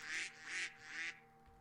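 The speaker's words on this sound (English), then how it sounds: "Oh, there's some ducks." Three quick, close duck quacks ring out one after another in the Minecraft modpack Life in the Woods, followed by a faint trailing call.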